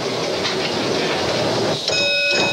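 A mine train running on rails deep underground at the 16 to 1 gold mine in California, a steady close rumbling roll with a brief drop near the end before the noise resumes alongside faint high tonal squeals.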